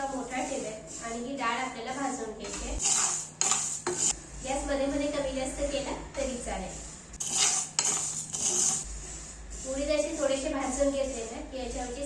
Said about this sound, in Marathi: यामध्ये घेतलेले संपूर्ण उडीद घालू